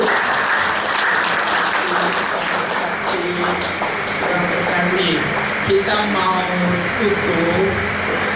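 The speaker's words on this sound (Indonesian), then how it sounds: "Tepuk tangan dulu" Guests at a church inauguration in Mall of Indonesia give steady, loud applause, a continuous wash of many hands clapping while voices and murmuring carry underneath.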